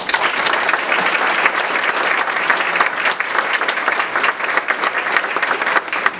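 Audience applause for Commissioner Lee at a Summercreek community meeting, steady dense clapping from a crowd that holds loud and even for about six seconds, with no talk over it.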